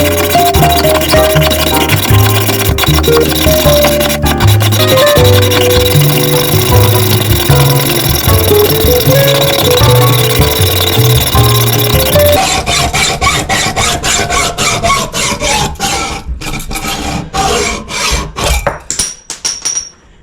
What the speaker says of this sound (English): I'm going to cut it right here so I can slip these off